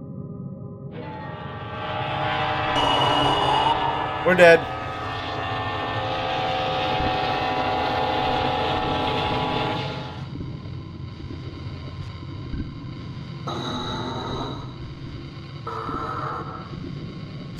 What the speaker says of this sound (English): It's a demonic train that's come to kill me.